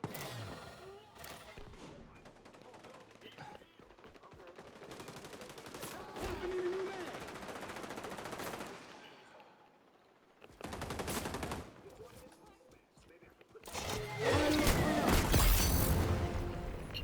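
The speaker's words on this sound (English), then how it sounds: "Shoot the other guys until they're dead." Gunfire in an XDefiant Team Deathmatch match: loud bursts of automatic fire and single shots in clusters, broken by a short lull and ending in a dense, heavy volley.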